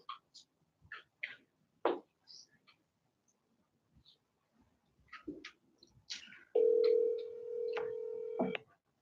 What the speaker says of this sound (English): I'm going to get Kiki on the phone and give the financials again.